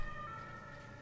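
Siren in the Jet Set Radio Future video game, a steady wailing tone holding through the short clip with no talk over it.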